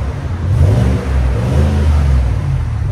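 A 2019 Chevy Silverado High Country's 6.2L V8 revs through a Dynomax Ultra Flow exhaust, a loud, close, deep rumble that swells and holds steady throughout with no talking.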